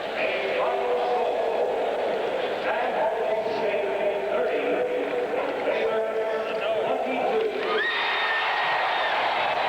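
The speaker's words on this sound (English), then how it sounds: "The crowd noise you hear is the announcement here at Texas Stadium" Crowd roar at Texas Stadium during a 1980 Texas A&M at SMU college football game, a broad steady wash of voices with rising cheers, heard over a continuous tone-like background.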